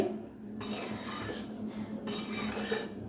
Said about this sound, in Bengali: এবারে জলের সঙ্গে মাংসগুলো ভালো করে মিশিয়ে দিয়ে